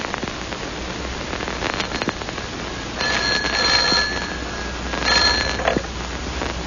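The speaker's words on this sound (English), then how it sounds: "Almost at once, the telephone rang." Telephone bell ringing as a radio drama sound effect, two bursts of bright trilling rings over a crackly hiss, separated by a short pause.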